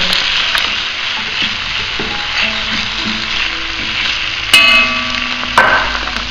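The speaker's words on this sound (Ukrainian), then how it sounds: "Рібчасту цибулю обсмажимо з томатним пюре." Onions and mushrooms fry with tomato puree in a pan, a continuous crackling hiss with occasional light clinks of a utensil, no talking.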